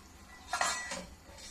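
A metal lid is set onto a cooking pot of pyaj pakoda kadhi, giving a couple of short, close clinks and a light scrape against the rim in an otherwise quiet kitchen.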